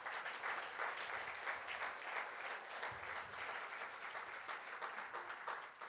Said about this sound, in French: Et je vous demande de les applaudir très fort.